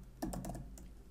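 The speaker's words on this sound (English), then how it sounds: "you can basically go to the search bar and you could type" Quick bursts of keystrokes on a computer keyboard, a short run of soft, close clicks heard at low volume with no talking.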